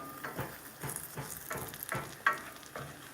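Onions sizzle and fry in a pan while being stirred for a vegan chickpea curry, a steady close crackle with soft scraping strokes and one sharper clink, no talk.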